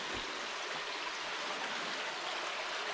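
Water drains out from behind big concrete foundations, a steady, continuous rushing trickle with no pauses.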